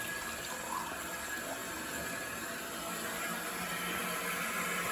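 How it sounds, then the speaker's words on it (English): Domestic cold water rushes into a 35-year-old gas steam boiler during a service call, a steady, continuous hiss of filling flow, moderately loud and unbroken, with no voices. "And now it's feeding fresh, oxygenated cold water, domestic cold water into the boiler."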